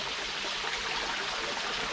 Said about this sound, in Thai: เราก็เปิดน้ำตกไว้อย่างนี้